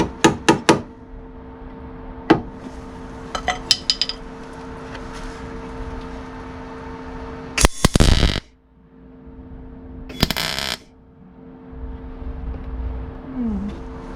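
Wire welding on an inner wing repair of a Rover P6 gives short bursts of crackling buzz, with one longer burst and another near the end, between sharp knocks and a steady low hum, all close and without talk.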